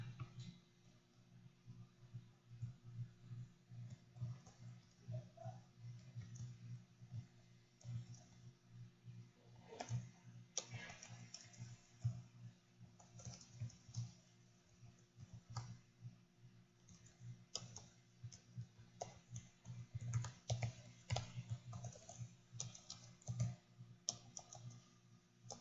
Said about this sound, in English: let me type something in the chat real quick.